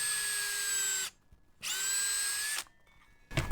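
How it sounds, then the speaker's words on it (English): A power drill boring a hole into a wooden stake whirs in two steady bursts about a second each with a short pause between, close and loud, followed by a brief scrape. "pop the drill in there and drill quickly"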